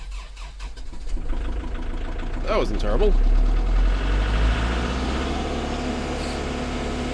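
Tractor diesel engine cranking and catching on a cold morning around 10 degrees Fahrenheit, settling into a loud, steady high idle close by, with someone talking briefly over the rumble.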